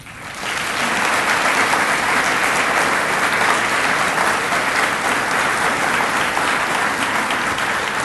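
An audience bursts into sustained, even applause welcoming an honoree to the podium at a 2013 NCC student recognition ceremony, rising quickly after a quiet start and staying loud throughout.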